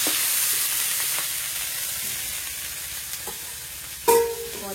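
Dried fish fries with garlic and turmeric in a pan, giving a loud continuous sizzle with soft stirring scrapes and a sharper clatter near the end, no voices over it.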